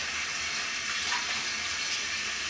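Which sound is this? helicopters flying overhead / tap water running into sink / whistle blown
tap water running into sink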